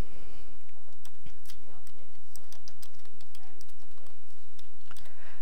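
Quick, irregular clicking of a computer keyboard while a short text is typed into a dialog box, heard fairly close over a steady low hum.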